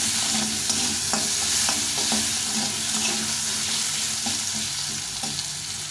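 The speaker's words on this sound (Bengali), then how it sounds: "একটু লবণ, আর একটু হলুদ গুঁড়ো দিয়ে আলুটাকে ভেজে নেব।" Potatoes frying in a pan with salt and turmeric, a steady close sizzle with occasional stirring clicks throughout, no voices.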